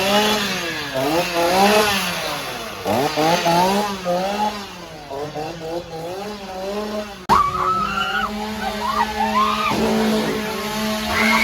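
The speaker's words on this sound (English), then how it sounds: "Here we go, more chainsaws." Chainsaws at the Tulleys Shocktober Fest Halloween scare attraction rev loudly and repeatedly, their engines rising and falling in wavering bursts; a second saw cuts in sharply partway through and runs on at a steady, high drone.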